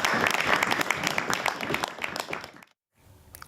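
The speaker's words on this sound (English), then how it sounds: "Little clap at the end." Short burst of clapping around a table at the start of a Cabinet meeting, a cluster of individual claps that thins out and stops abruptly, followed by near silence and a faint room murmur.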